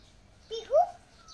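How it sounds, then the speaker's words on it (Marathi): An Asian koel calls from a garden tree, one clear rising whistled note of moderate loudness against a quiet background. "ते कोयल पण गाणं म्हणते बघ"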